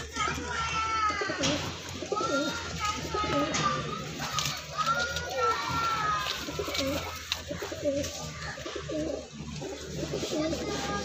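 Madrasi pigeons coo repeatedly in soft, low rolling calls, close by, overlapping with people talking and children's voices nearby.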